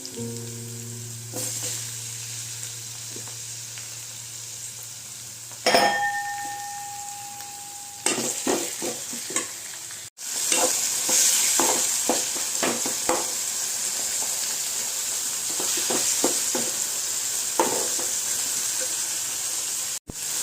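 Onion and tomato sautéing in a pan for sorekai palya, a steady close hiss of frying punctuated by scattered spatula scrapes and clinks, loud throughout with a brief drop midway.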